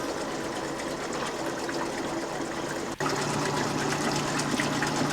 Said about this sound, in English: It then shakes across the table and separates out using gravity separation and hydraulic flow, or water.